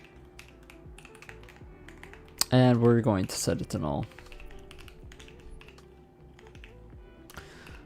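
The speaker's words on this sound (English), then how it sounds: "Sorry if I'm typing a little bit slow today" Computer keyboard typing during C and OpenGL game engine programming, with quick scattered clicks and taps running throughout, close and fairly faint, and someone speaking briefly over the keys partway through.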